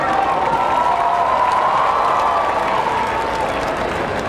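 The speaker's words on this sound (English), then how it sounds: "y'all give a big round of applause" A battle-of-the-bands crowd gives a steady, loud round of applause mixed with cheering and shouts, a dense continuous wash lasting several seconds.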